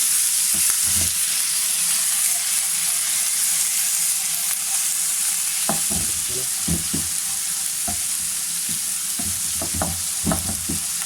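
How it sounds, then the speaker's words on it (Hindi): Steady loud sizzle of ginger garlic paste frying in a hot pan, with intermittent scraping and clinking as it is stirred; no voices. "इस अदरक लहसुन के पेस्ट को थोड़ा सा सोटे करना है।"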